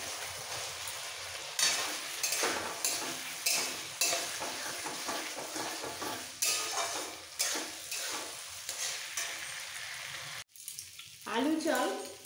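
Gobindobhog rice and fried potatoes are stir-fried together in a pan, with scraping, stirring and steady sizzling throughout and a few clinks of utensils against the pot, broken by a short pause near the end.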